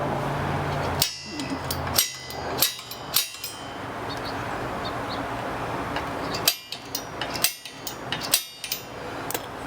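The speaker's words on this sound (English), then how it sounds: "I'm going to use my center punch, and I'm going to try and put this right in the center." Sharp metallic hammer strikes on a center punch into metal ring out in irregular clusters, several close taps in quick succession, then a pause before another series of loud clanks.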